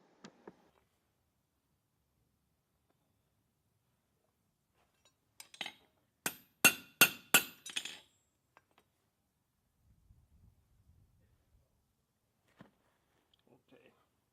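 A Standardbred horseshoe hammered on a stall jack gives about five quick, ringing metallic strikes in a tight cluster midway, with near silence and a few faint knocks before and after.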